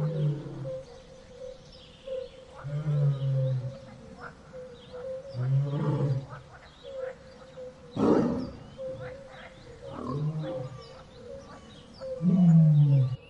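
An Asiatic lion giving a series of deep, rumbling grunting roars, repeated roughly every two seconds in a steady rhythm, with faint birds chirping in the background.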